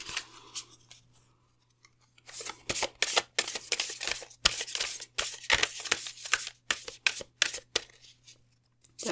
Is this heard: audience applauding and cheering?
no